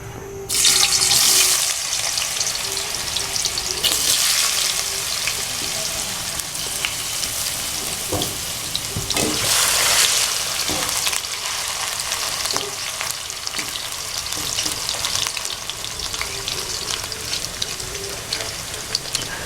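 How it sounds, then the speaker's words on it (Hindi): Brick-shaped potato cubes frying in hot oil for an aloo shimla mirch dish, a steady close sizzle with bursts of loud crackling spatter as pieces hit and are moved in the pan, no talking. "जब गर्म हो जाएगा फिर हम इसमें आलू जो है वो फ्राई करेंगे"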